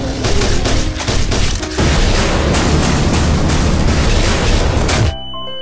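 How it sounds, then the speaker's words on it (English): Dense, loud bursts of grenade launcher fire and rolling explosions from Garry's Mod pile up in a continuous, booming barrage that cuts off abruptly near the end, leaving a faint tonal ring. "Grenade launcher."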